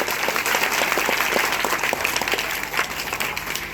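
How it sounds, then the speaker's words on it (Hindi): At a school's Independence Day celebration, an audience claps loudly for the children. The sustained applause is busy and close, filling the whole moment without pause. "आप लोग एक ताली बजाएं जोरदार इन बच्चों के लिए"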